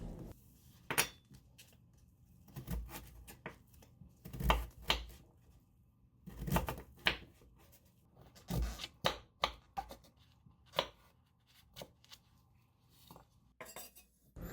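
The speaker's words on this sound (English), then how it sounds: "peeling and dicing the beetroot" Beetroot is peeled and diced in a kitchen with a knife, giving sparse, close knocks and taps on a board with quiet gaps between, heard alone without talk.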